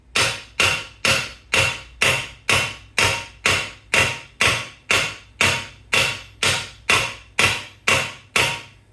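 A hammer striking a bobby pin laid on an anvil, sixteen sharp metallic blows in a steady even rhythm, each ringing briefly before the next, close and loud with no voices.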